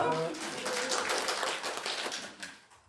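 A group at a church panel discussion claps, a broad rush of applause that builds quickly, holds, then tapers away toward the end.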